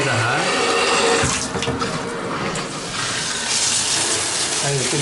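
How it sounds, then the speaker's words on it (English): A new bathtub tap turned fully to hot, with water gushing and splashing loudly and steadily into the tub close by for the whole stretch. "We're going to turn on the water. That's all the way to hot."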